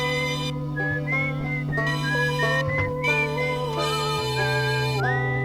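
A melodic whistle plays in a multiplayer video game aboard a ship, wavering tones gliding up and down over a steady droning background, fairly loud and without speech.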